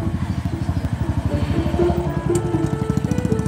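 An old motorcycle engine idles with a fast, even putter, close and steady, its pitch rising slightly partway through.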